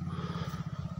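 A motorcycle ride on a road near Golaghat, Assam, with a steady close engine drone and rhythmic rumble throughout this brief moment.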